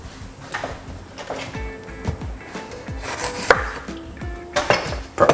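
A knife chops spring onion on a cutting board for a fresh salad, with a series of sharp, close knocks in an uneven rhythm and a few rustles between strikes, with no speech.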